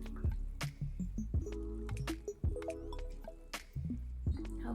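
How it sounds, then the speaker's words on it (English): Thick Ordinary peel solution dripping during a skincare application, with a series of small, close, wet drips and squishy sounds spaced irregularly throughout. "Oh my gosh, it's dripping."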